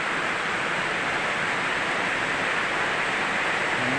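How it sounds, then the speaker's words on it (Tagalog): Heavy rain pours down in a dense, even hiss, loud and continuous with no breaks. "Ang lakas ng ulan."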